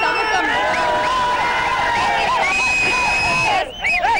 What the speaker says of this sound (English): The crowd is swelling, and the visuals behind me will just tell you much more.